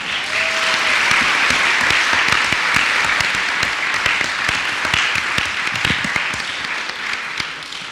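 A crowd at a panel discussion on Mexico's presidential candidates gives sustained, loud applause, a thick continuous roar of many hands clapping that stays steady for about eight seconds.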